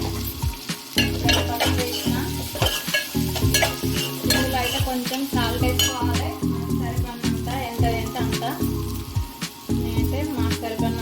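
Ginger and turmeric frying and being stirred in a pan for a soya chunk and egg curry, with a steady close sizzle and frequent scraping, clinking spoon strokes throughout.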